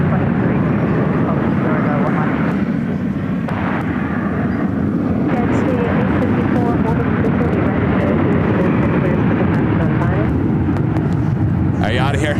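A Southwest Boeing 737-700 in special livery arrives on runway 28 at San Francisco airport, its steady broadband jet roar filling the scene at close range while people talk over it.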